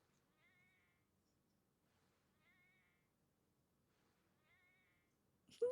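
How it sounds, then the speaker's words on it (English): Three short cat meows from the video game Everquest, evenly spaced about two seconds apart over a quiet background, followed by a brief loud burst at the end. "My cat making the meow sound every time it throws a rock"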